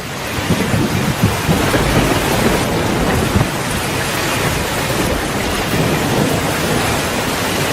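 Heavy, steady rain on surfaces mixed with low rolling thunder fills an animated rainy-day scene, loud and unbroken throughout with no speech.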